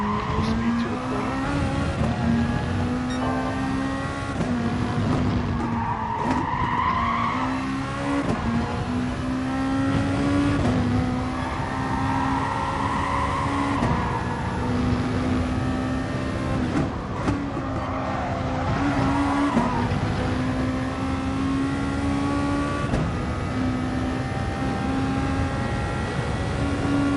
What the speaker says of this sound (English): Nice tire squeal, get onto the blue.